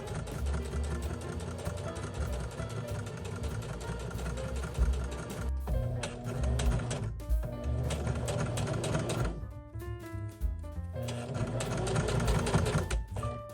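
A sewing machine stitches a zippered make-up pouch with a plastic polyester zipper, running in steady close bursts with brief pauses between runs, no talking.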